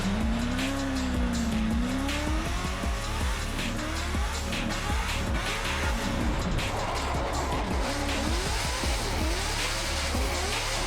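A Formula Drift car launches hard off the line at a competition, its engine roaring loud and close as the tires squeal and rev rises through the pull, continuous and unbroken.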